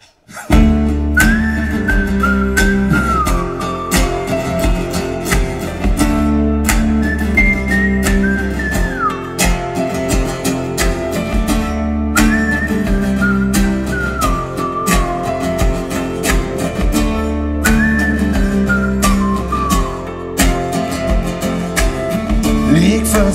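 A person whistles a song melody over a full band backing at a live music performance, the clear rising and falling whistled phrases repeating in loud, regular cycles across the whole passage.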